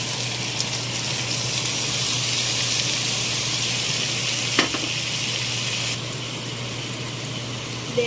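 Coconut oil sizzling in a hot pan while cooking a milkfish dish in coconut milk, a steady, close, hissing crackle that holds level throughout, with a slight drop in intensity near the end.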